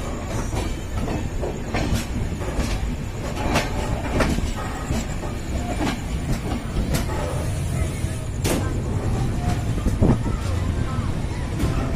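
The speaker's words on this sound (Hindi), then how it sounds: "हमारी ट्रेन इस समय चारबाग के शायद प्लेटफॉर्म नंबर 1 पर इंटर कर रही है" The Janasadharan Express entering a platform at Charbagh station, heard from on board as a continuous loud rumble with rattling wagons, scattered clanks and squeals, and voices underneath.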